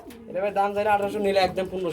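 Racing pigeons coo steadily in a low, throaty warble, close by, with a layered stack of calls running for two seconds.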